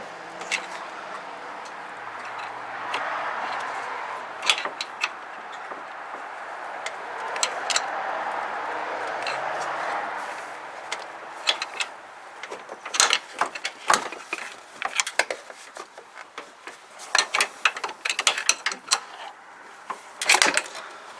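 A rag joint steering coupler on a 1993 Chevy K1500 being worked back and forth off the steering shaft, with a steady rattle at first, then irregular metallic clicks and knocks that come close together, with no voices.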